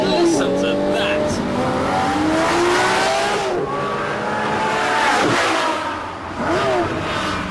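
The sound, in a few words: Lamborghini Murcielago LP640 accelerating hard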